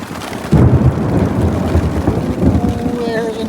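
Thunder strikes during a thunderstorm in hot, humid heatwave weather on the Loyalsock Trail: a loud, abrupt boom that rolls on as a sustained heavy rumble, with rain and a voice in the background.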